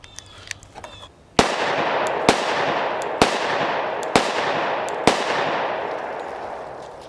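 Five loud, sharp shots ring out from a compact Glock G29 10mm pistol firing 180 grain jacketed hollow point rounds, spaced roughly a second apart, each with a ringing decay outdoors.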